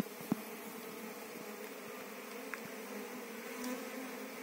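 Bees swarm and buzz steadily around a small trickling water hole in the dry Brazilian backcountry, a continuous near drone with a few faint clicks and taps.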